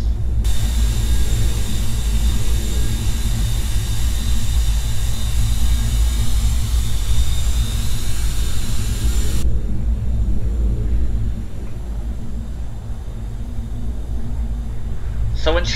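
Beriev A-50 airborne early warning plane flying in the Roblox game Aeronautica, a steady loud engine drone and rumble continuing throughout with a brighter high whine that drops away partway, with someone talking over it.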